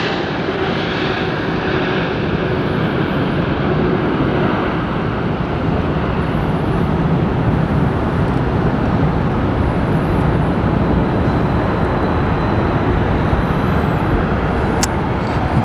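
A Boeing 777 touching down at Los Angeles airport against a tailwind: a continuous loud jet roar holding steady throughout, without speech.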